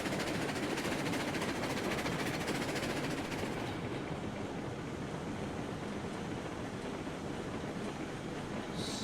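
A long freight train rolls along the track in the RailRoads Online video game, giving a steady, dense rumble and wheel noise that stays loud throughout and thins slightly in the later part.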